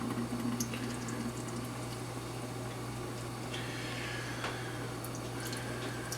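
Juice from opened canned tomatoes being dumped out, a steady liquid trickle and drip that runs throughout over a constant low electrical hum.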